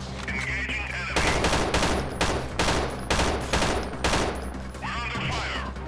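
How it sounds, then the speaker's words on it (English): Heavy gunfire on mercenaries in the video game Freeman Guerrilla Warfare, with rapid overlapping automatic bursts and loud repeated shots over several seconds against a constant background hum. "Mercenary Marksman is now under fire"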